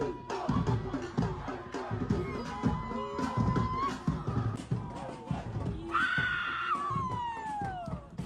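A woman screams in a played-back clip, with sharp rising and falling shrieks over a busy, noisy background and brief overlapping voices, the loudest cry coming near the end.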